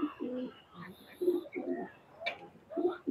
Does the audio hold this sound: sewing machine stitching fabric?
no